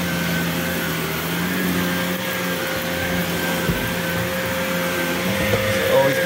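A vacuum cleaner runs inside an RV trailer, giving a continuous close, loud motor whine with a steady hum and a few small bumps, and no talking.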